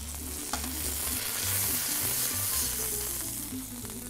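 Poultry pieces searing on a hot cooking plate, a continuous crackling sizzle with scattered pops and spatters, steady and close throughout.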